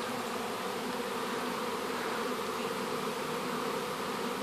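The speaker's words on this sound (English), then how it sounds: "the bees from the big hive next to it are crawling over to the bait hive as the swarm comes flying in" A honeybee swarm flying in toward a bait hive beside a large hive, a dense continuous buzzing drone of many bees, steady and enveloping without pause.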